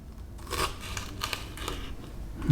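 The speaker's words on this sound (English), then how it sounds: "And then we'll just cut this into little slivers" A knife slices a bell pepper into thin slivers on a board, a few soft crisp cuts spaced about half a second apart, quiet and close.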